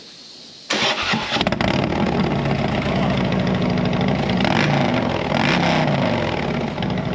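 A Harley-Davidson Road King motorcycle engine cranks and catches abruptly, then runs loud and close at a steady, rumbling idle with a slight throttle swell midway.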